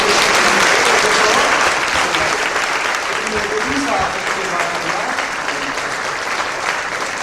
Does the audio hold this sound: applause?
yes